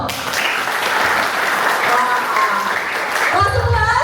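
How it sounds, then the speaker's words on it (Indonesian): Students applauding loudly in a school hall, a dense continuous roar of clapping with voices and cheering mixed in, holding strong throughout. "kasih tepuk tangannya yang paling kenceng ya"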